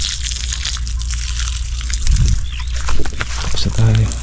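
Water gushes and splashes steadily on a calamansi farm, a continuous broad rushing wash over a low rumble that swells slightly toward the end.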